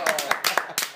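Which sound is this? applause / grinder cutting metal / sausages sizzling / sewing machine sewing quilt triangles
applause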